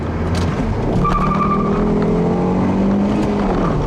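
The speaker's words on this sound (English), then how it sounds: "it does have a little bit of torque steer when you get on the throttle, and a little bit of wheel hop" A 2007 Volvo C70 with a six-speed manual revs hard under acceleration, with a rough, juddering tire chatter and faint squeal as the wheels hop; no talking.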